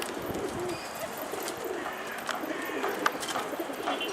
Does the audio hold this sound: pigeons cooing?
yes